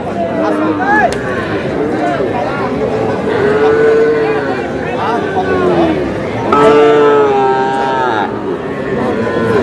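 Cattle at a crowded livestock market in Cumilla, where Sahiwal bull calves are traded, moo loudly and repeatedly, several calls overlapping close by over a constant murmur of crowd chatter.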